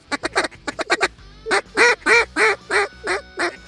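Ringneck ducks calling during a duck hunt, first a quick run of short clipped calls, then a steady series of about seven longer, evenly spaced honking notes, loud and close with no talk.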